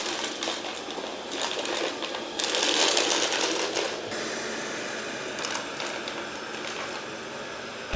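An Ultenic T10 robot vacuum cleaning indoors near a dining room, giving off a steady, close mechanical whirring hum that swells briefly partway through.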